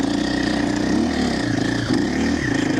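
A 2025 KTM Champion Edition motorcycle engine pulls hard under acceleration, its loud, steady mid-pitched drone rising and dipping slightly as the bike keeps driving forward at close range.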